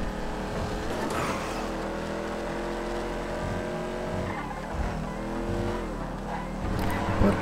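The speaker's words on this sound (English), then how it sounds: "I just upgraded the car so it's a lot faster." Upgraded car driving fast in the GTA 5 video game, a sustained engine drone with shifting pitch and occasional tyre noise, loud and continuous throughout.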